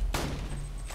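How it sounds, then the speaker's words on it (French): A pump-action shotgun firing in the video game Borderlands 2, one sharp loud blast with a short decaying tail, alone without talk. "Ah, c'est un fusil à pompe quoi."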